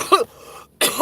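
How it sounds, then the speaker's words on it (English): A person coughs twice, close to the mic, each burst harsh and throaty with a short quiet pause between them. "Damn, I'm coughing."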